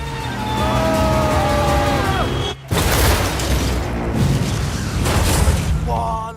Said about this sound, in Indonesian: mobil jamet meledak setelah bertabrakan dengan mobil